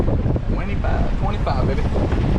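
Strong wind buffets the microphone on a boat during a reef fishing trip off Islamorada in the Florida Keys, a steady roaring rush with a hint of water and faint voice-like traces mixed in.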